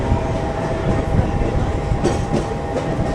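A Mumbai Harbour Line local train runs through the Kurla stretch from inside a first-class coach, with a loud, continuous rumble and rattling clatter of wheels and carriage throughout.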